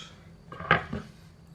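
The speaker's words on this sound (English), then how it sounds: "use these side cutters because they're far easier" Side cutters snip through small pieces of a Mathematical Bridge model kit, giving one sharp close click followed by a softer second snip in an otherwise quiet room.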